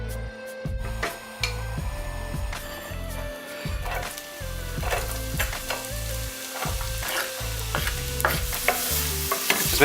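Onions fry steadily in oil in a pan, sizzling with occasional stirring scrapes and clicks over the constant hiss.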